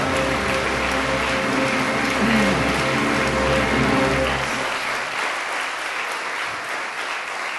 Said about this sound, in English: Applause just like this boomed from the shed